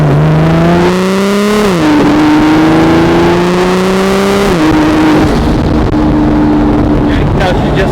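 A single-turbo BMW 335i with a hood-exit exhaust revs and accelerates loudly and close, its engine note climbing and dropping through shifts, with a brief turbo flutter and the drone fading into cabin noise at the end.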